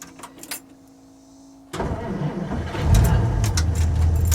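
A 1959 Dodge Coronet cold-starts after sitting all day: a quiet stretch with a faint tone, then the engine catches abruptly and settles into a rough, rising idle, with voices talking nearby.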